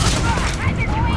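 Gunfire in the Starfield video game, a dense burst of rapid shots under excited talk, busy and continuous for the whole moment.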